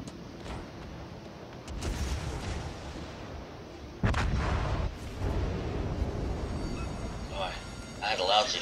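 Warship guns fire in World of Warships, with two heavy booming salvos amid a continuous rumbling battle soundscape, while someone talks over the action.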